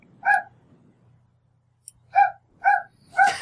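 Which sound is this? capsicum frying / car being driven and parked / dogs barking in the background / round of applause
dogs barking in the background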